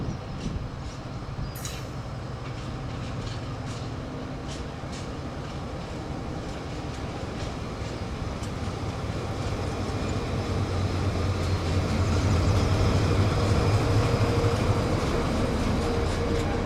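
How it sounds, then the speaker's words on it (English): Train 7817 runs on the Durham coast line with a steady low rumble and rolling wagon noise that grows slightly louder toward the end, close by and continuous, with no voices. "7817 had to run around its train and depart to the south via the Durham coast"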